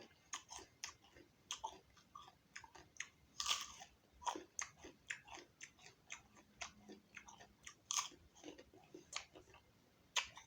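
Crunchy jujube fruit, the milk and chocolate varieties, bitten and chewed close up, a long irregular series of crisp crunches and clicks with no talk.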